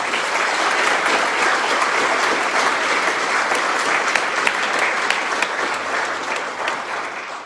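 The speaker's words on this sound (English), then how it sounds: "let's just give everyone another round of applause" An audience at the 2023 Serve Indiana Awards for Excellence ceremony claps in a dense, sustained round of applause that holds steady for several seconds before easing off slightly at the end.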